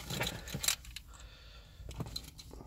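Two original keys for a 2005 BMW Z4 Roadster jangle in a short metallic burst near the start, then a softer clink about a second later, close by with no talking.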